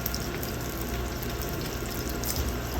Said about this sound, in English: Right now I got my pot of boiling water going for the pasta.